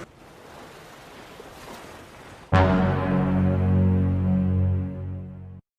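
Large ocean waves crash and wash loudly close by as a homemade raft paddles away from a deserted island, a sudden surge of surf following a quieter, windy stretch.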